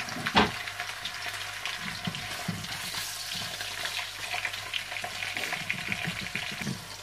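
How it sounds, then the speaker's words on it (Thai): Pork fries with golden garlic in a pan, a continuous close sizzle and crackle with occasional stirring scrapes and one sharp clank near the start, moderately quiet and with no talking. "ทอดหมูพอหอมหอม"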